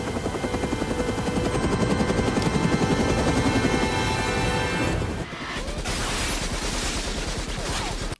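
A Bell 212 helicopter's rotor thrums loudly and steadily in a film scene alongside dense action noise, with a sudden shift to a harsher, more open roar near the end.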